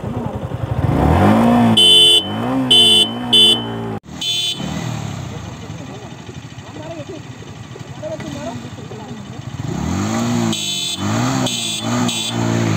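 A Yamaha R15 V4 motorcycle pulls away hard in a drag race against a KTM RC125. Rising engine revs swell at the start and again near the end, with horn blasts and people talking over the roar.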